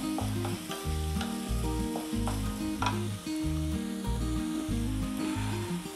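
Pav bhaji masala stirred in a frying pan, a continuous hiss of sizzling oil with rhythmic scraping strokes of the spoon against the pan, loud and close, with backing music and no talk.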